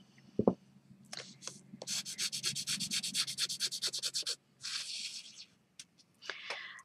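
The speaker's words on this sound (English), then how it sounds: "As I burnish with my finger, you can see that I'm making the tape stick to the rubber" A fingertip burnishes tape onto a rubber stamp with rapid, close rubbing strokes in bursts, a soft squeaky friction that pauses and resumes, quiet and near, with a brief bump at the start.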